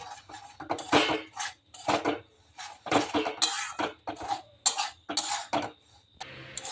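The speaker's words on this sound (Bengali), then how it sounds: "প্রথমে আমি একটা কড়াই বসিয়ে দিয়েছি কড়াইটা প্রথমে গরম করে নিয়েছি এই সুজিটা প্রথম শুকনো কড়াইতে আমি শুকনো করে সুজিটা ভালো করে ভেজে নেব" Semolina being dry-roasted in a hot, dry wok (kadai): repeated scraping and clattering strokes of a utensil against the metal pan, close up, in irregular bursts with short pauses between them and no voices.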